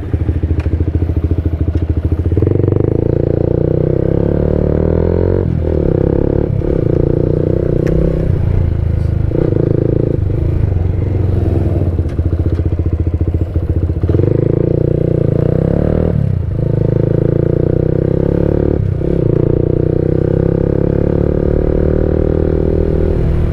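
An RFS150i motorcycle fitted with an aftermarket racing exhaust idles and revs close by, a loud, continuous raspy drone with repeated throttle blips rising and falling across the whole stretch, with no talking.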